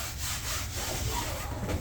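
Scrubbing strokes against the sides of a long-unused bathtub cleaned with baking soda and vinegar, a steady close rubbing scrape that runs continuously without pause.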